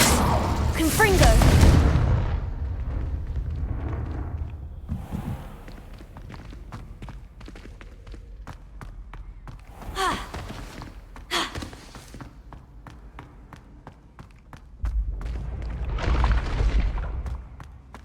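Booming Confringo spell blasts from a Harry Potter-style video game burst with heavy low rumble, spaced across the stretch. Scattered crackles and footstep-like ticks fill the gaps, and a voice speaks in between.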